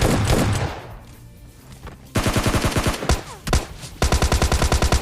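Rapid bursts of DP-28 machine gun fire from PUBG Lite, loud and close, with several rattling strings of shots separated by brief pauses after a quieter opening stretch.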